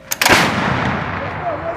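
An artillery gun fires a single loud, close blast during a military live-fire exercise, followed by a long rumbling decay.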